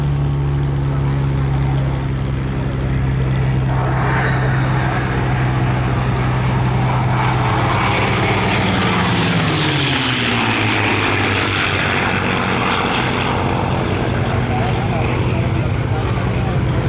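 A P-51 Mustang with a yellow nose, named Ferocious Frankie, flies by at the Flying Legends 2014 airshow, its propeller engine drone swelling and fading mid-clip, with a commentator talking over it throughout.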